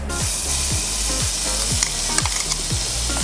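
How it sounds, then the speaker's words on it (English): Crushed garlic sautéing over a low flame, a steady close sizzle running throughout with a few regular soft scraping strokes of stirring. "So you need to make sure that it's on a low flame, that you just saute the garlic a little bit."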